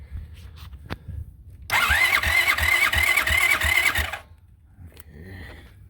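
A 125cc or 150cc quad bike engine cranks over with a loud, rhythmic, chugging whir for about two and a half seconds without catching, then cuts off to near quiet.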